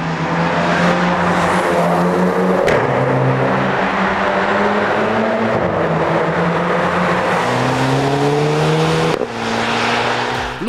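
Audi TT coupé (2014) accelerating in dynamic mode with its exhaust flaps open, a loud, close engine note climbing through several gear changes with rising harmonics and brief dips between shifts, no talking.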